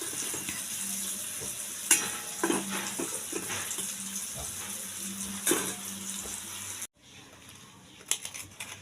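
Pieces of chana dal dhoka frying in hot oil give a continuous sizzle with occasional scrapes and bubbling. Near the end the sound drops off abruptly and a quieter stretch follows.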